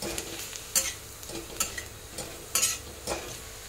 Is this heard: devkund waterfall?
no